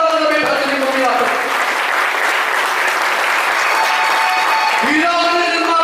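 A large audience claps loud and close in sustained, dense applause for several seconds, while a voice carries on over it.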